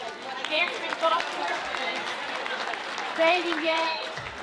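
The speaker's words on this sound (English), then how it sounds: "Give yourselves a round of applause too." An audience at a women-in-business retreat gives a round of applause, a diffuse patter of clapping mixed with overlapping voices and cheers, swelling briefly near the start and again toward the end.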